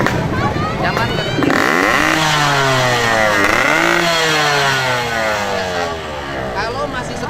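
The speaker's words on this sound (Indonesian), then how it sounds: "Coba nyalain motornya." A motorcycle with a loud aftermarket open exhaust is started and revved hard several times at a roadside warehouse stop, with rising and falling engine pitch close by, while people talk over it.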